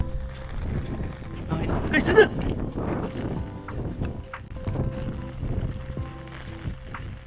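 Gusty wind buffets the microphone in rumbling surges during heavy rain, with a voice and movement heard faintly beneath the roar outdoors.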